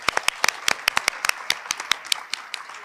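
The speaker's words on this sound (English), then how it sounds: "Can we please give a huge round of applause to all the high school students and the directors here tonight?" At an evening awards ceremony, a fairly sparse crowd claps for high school students and their directors, with distinct individual claps landing in a quick, uneven patter.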